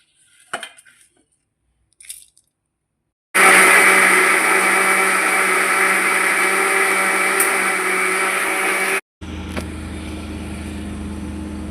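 A kitchen mixer grinder grinds masala for a fish curry made with sardine and mackerel: a few light clinks of handling come first, then a loud steady motor whine for several seconds, a brief cutoff, and a second burst of grinding.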